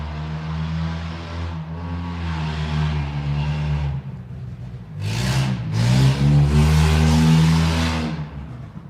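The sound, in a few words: recreational vehicle engine passing by outside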